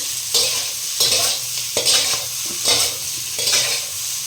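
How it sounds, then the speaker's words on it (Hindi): Masoor dal fries in a clay handi while a wooden spoon stirs it in rhythmic strokes about once a second, each stroke a close, loud scrape over a steady sizzle, with no voices. "तब तक ये भुन रहा है, और दाल को भी इधर एक बार चला लेते हैं।"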